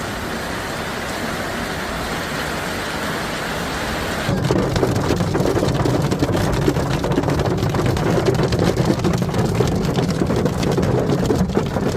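Torrential rain pours down during a historic storm with hail in Sicily, a dense steady roar that suddenly grows heavier and louder partway through, with rumbling thunder mixed in.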